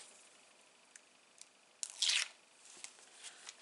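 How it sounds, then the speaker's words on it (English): Backing is peeled off adhesive tape on a handmade glass-effect card, a short close rasping strip-tear near the middle among quiet scattered clicks and rustles, faint overall. "until I take the backing off"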